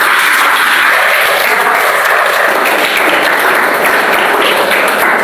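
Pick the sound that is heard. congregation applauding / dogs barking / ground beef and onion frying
congregation applauding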